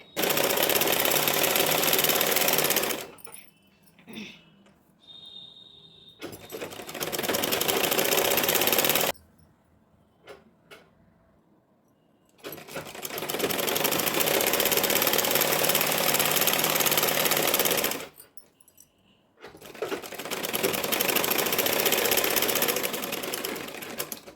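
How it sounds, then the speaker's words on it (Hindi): A sewing machine runs close by, stitching the kali panels of a full-length anarkali gown made from an old saree, in four long steady bursts separated by short pauses. "एक एक कली को लेना है और इसमें सिलाई लगाते हुए सारी कलियों को कंप्लीट कर लेंगे सिलकर"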